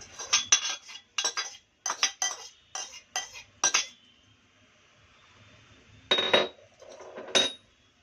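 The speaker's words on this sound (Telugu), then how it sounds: "ఈ ఎల్లిపాయ పేస్ట్ని ఇందులో కలుపుకోవాలి" A metal spoon clinks sharply against a bowl while crushed garlic paste, pounded with its skins, is mixed into amla pickle. Quick clusters of bright, close clinks are followed by a pause, then a few more strikes.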